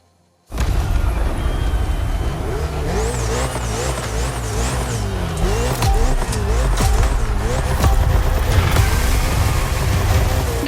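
Ferrari and Red Bull race cars howl around a circuit in The Crew Motorfest video game, engines screaming loud and continuous with rising and falling revs through gear changes, tire noise and music beneath.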